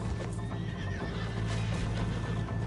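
A horse whinnies in Red Dead Redemption 2 over a dense, steady background of hooves and game ambience, the neigh rising briefly in the middle.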